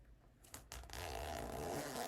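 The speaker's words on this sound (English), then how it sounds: "it's a zipper" A zipper on clothing is pulled in a few quick, quiet rasps that end in a longer steady zip, with faint room noise behind it.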